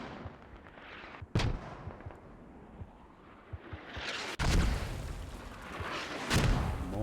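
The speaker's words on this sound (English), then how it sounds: "Mortars coming down there." Mortar rounds land in the military shooter game Squad, sharp booms and heavy blasts at irregular intervals over a rumbling battlefield background, with several loud distant-to-near impacts.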